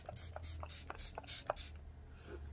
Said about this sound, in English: I'm going to spray with a little Mac Fix Plus real quick